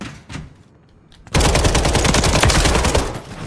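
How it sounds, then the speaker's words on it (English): Automatic gunfire in Call of Duty: Modern Warfare III, heard as a quiet lull and then a sudden, loud, sustained burst of rapid shots that rattles on to the end. "I really shot that motherfucker there"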